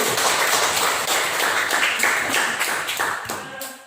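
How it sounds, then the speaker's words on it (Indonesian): Classmates clap for a student group after its presentation in a classroom, a dense burst of hand claps with sharp taps that holds steady for a few seconds and then thins and fades near the end, with no talking. "Tepuk tangan untuk kelompok 1."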